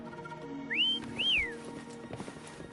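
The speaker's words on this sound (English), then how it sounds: "Why don't you call Foam over? Try whistling." A character in the video game Wuthering Waves whistles two clear rising-and-falling notes, each about a third of a second, over a quiet ambient game background.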